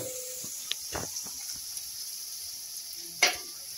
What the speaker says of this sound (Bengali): তেল গরম হয়ে গেছে, দিয়ে দেবো পেঁয়াজ